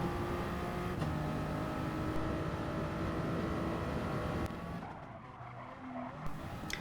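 A race car in Gran Turismo Sport on the Dragon Trail Gardens circuit, steady loud engine drone with a sustained whine, then the pitch drops and the sound eases as it brakes into a corner, with tires squealing briefly.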